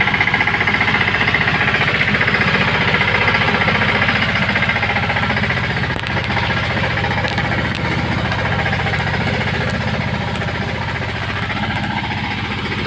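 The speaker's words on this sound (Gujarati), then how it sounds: "સોયાબીન મિની ટ્રેક્ટરથી, સોનાલિકાના ટ્રેક્ટરથી વાવણીનું કામ જે હાલે છે તમે જોઈ શકો છો" Sonalika mini tractor sowing soybeans in a rain-soaked farm field runs loud and steady, its engine chugging with a rhythmic throb and rattling vibration throughout, no voices.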